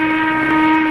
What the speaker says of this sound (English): now there's the whistle for unsportsmanlike conduct